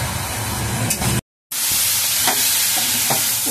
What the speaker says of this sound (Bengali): সবজিটা আমার ভালো করে কষানো হয়ে গেছে শুক্তো